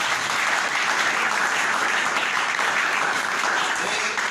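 A French-speaking church congregation applauds in praise to God during a worship service. The clapping is dense, sustained and fairly loud, filling the whole stretch with an even wash of hands.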